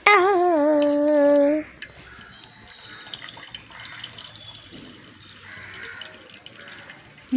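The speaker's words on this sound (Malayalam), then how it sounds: "എന്തത് വെള്ളം ഒലിച്ച് വരുന്നു" Water pouring and trickling in a kitchen while a Vishu rice and milk dish is being made, a steady soft flow with small splashes after a brief harmonic whine at the start.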